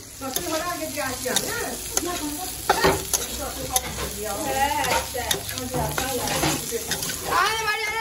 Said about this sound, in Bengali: এখানে আমি সবজি ডাল করার জন্য সব সবজি কটা ভেজে নিচ্ছি